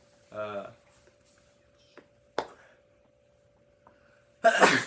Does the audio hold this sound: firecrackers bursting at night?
no